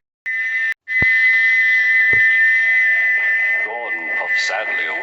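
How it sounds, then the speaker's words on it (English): A steam locomotive's whistle is stuck open on an HO/OO model railway. It gives a short shrill blast, breaks off briefly, then screams on in one loud, sustained note, with voices joining near the end. "he wouldn't stop whistling until two fitters climbed up and knocked his whistle valve in place"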